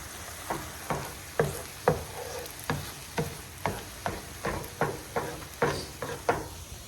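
Ground meat for tacos browns and sizzles in a pan under a steady, even rhythm of about a dozen spatula strokes scraping and turning it, each stroke close and distinct.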